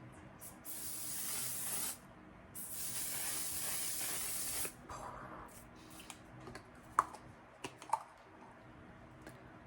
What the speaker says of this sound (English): And then I go over top of that with the other spray.